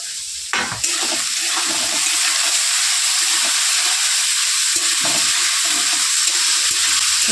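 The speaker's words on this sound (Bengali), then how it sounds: "সুন্দর করে একটু লাল লাল করে ভেজে নেব।" Vegetables frying in a pan, with a steady close sizzle and crackle that follows a brief clatter near the start.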